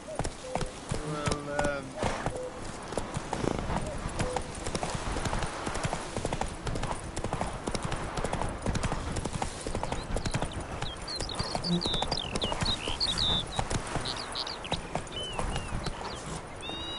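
A horse gallops in The Witcher 3, a steady clip-clop of hooves running throughout with game ambience and occasional voices underneath.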